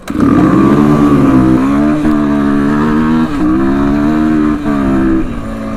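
An engine held at high revs at a drag-race launch, its loud buzzing tone wavering and dipping briefly several times as the clutch is worked, close up with no talk.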